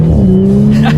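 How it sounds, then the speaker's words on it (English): A 2019 Audi S4 with a 3.0 TFSI twin-turbo V6 accelerating hard on paddle shifters, heard from inside as a loud, steady engine drone with rising tone, under a voice. "Let's do a quick little acceleration with the paddle shifters."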